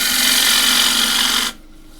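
A deep fluted bowl gouge cuts into spinning camphor laurel wood on a lathe, making a loud, steady hissing scrape for about a second and a half before the tool lifts off and the cut stops abruptly.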